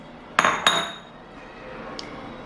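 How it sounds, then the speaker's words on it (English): Softened cream cheese being added to a bowl, heard as two quick, bright clinks of a utensil against the bowl close by, then a fainter tap after a short pause in an otherwise quiet kitchen. "So in my bowl, I'm going to add my softened cream cheese"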